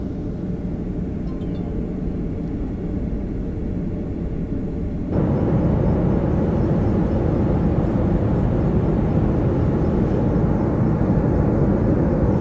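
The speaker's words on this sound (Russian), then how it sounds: "Там уже самолет." An airplane gives off a loud, steady, broadband roar with no talking. The noise jumps noticeably louder about halfway through and holds there until the end.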